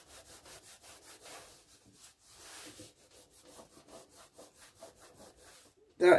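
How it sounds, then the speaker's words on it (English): A finger rubs paint off a surface during a computer build with an Asus M5A78L-M motherboard. Quiet, close, rhythmic rubbing strokes repeat steadily, then a sudden loud knock comes at the end. "Just rub it around with a finger."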